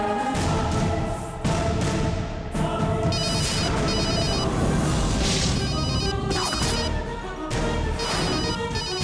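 A telephone left at home rings on and on, a repeating electronic ringtone pattern heard over a loud music-and-effects background in a Hindi TV drama scene, with no one speaking.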